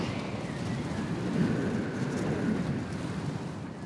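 Wind rushes steadily past a sailing boat at sea, a broad, unbroken roar with faint water wash beneath, with no talk.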